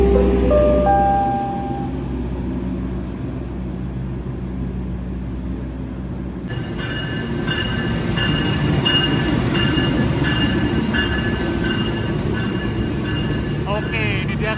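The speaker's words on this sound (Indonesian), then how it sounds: "ini dia kereta api Turangga masuk stasiun Surabaya Gubeng" Turangga passenger train pulling into Surabaya Gubeng station, a steady low rumble of wheels and carriages with a rising high-pitched squeal of brakes, over busy platform ambience and background voices.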